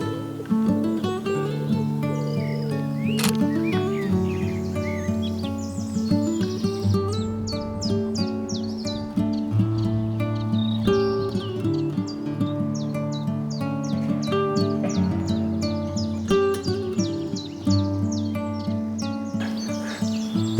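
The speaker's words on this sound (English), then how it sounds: "these birds that are making all this noise in this tree" Many birds in a tree at RSPB Fairburn Ings chirp and call at once in a busy, continuous chorus of overlapping tweets and whistles, close and lively.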